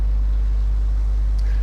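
The P-400 aircraft's engine in the War Thunder video game, throttled to about 80 percent to avoid overheating, holds a low, steady droning hum throughout, with a faint brief chirp near the end.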